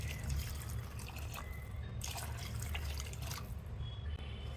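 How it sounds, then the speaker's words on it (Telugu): Water poured from a glass into basmati rice for plain kushka biryani, a steady close trickle and splash with a few louder bursts, no voices. "3 గ్లాసుల వాటర్ అయితే వేస్తున్నాను"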